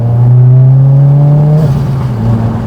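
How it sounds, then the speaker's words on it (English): A Subaru WRX with the FA24 engine gives a loud, close exhaust drone that holds steady, then drops in pitch. The note changes partway through, but no distinct crackles or pops stand out. "Snap, crackle, pop on the exhaust."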